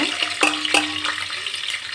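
Steady sizzling of shallots frying in hot oil, with a few sharp pops and crackles, close by.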